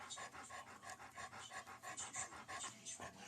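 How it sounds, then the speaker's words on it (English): A pet dog pants steadily and rapidly right up close, a rhythmic breathy huffing repeating several times per second throughout, faint overall and without talk. "My Huffy dog must have finished his peanut butter because here he is back again."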